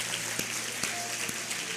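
A church congregation applauds in a steady, even patter of many hands clapping, heard alone at moderate volume through a reverberant hall, with a few louder claps standing out.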